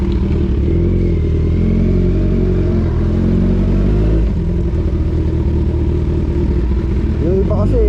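A Kawasaki Z1000 big bike idles after a cold start, its engine making a steady, loud, close-up drone that holds an even rumble for the whole stretch.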